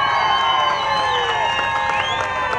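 An outdoor motorcycle show crowd in Zulia cheers and applauds loudly and continuously, with whoops, shouts and shrill whistle-like tones over a steady wash of noise.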